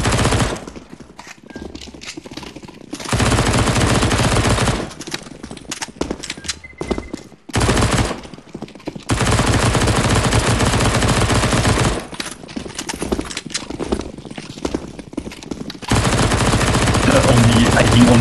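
Rapid automatic gunfire from CS:GO zombie escape play, loud and sustained in long bursts broken by brief gaps, with game sound effects mixed in.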